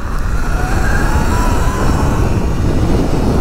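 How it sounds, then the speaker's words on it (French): Sur-Ron Light Bee electric motorbike pulling away from a standing start, a loud steady rush of wind and motor whine climbing slightly in pitch as it accelerates, continuous throughout with no talking. "On va se faire un départ arrêté pour voir."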